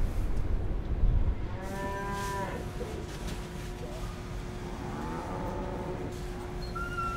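Cattle on a farm give several drawn-out moos, one nearer and louder, then fainter lowing later, with people talking in French throughout.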